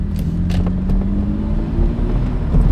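A Mercedes SLK convertible engine pulling away on a residential street, its steady throaty drone rising slightly as it accelerates, with the sound echoing off nearby houses.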